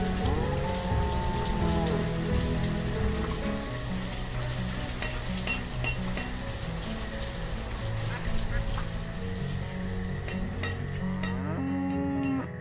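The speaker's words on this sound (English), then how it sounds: "Got our little cows." Cows moo repeatedly in the Banished colonial village-building video game, several drawn-out calls over a dense, constant bed of game ambience with crackling, rain-like texture throughout.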